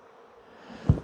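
Bees buzz inside a small nucleus hive holding only a few frames of bees, a soft steady hum close by that swells into a brief louder bump at the end.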